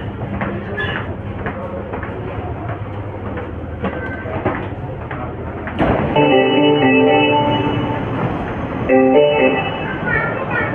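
An Agra metro train runs along the track, a steady rumble and rolling clatter inside the carriage that grows louder midway, with tonal electrical whine over the noise.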